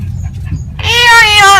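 A parrot vocalizing in a song-like way: faint chirps first, then a loud, close, sustained warbling call that fills the second half.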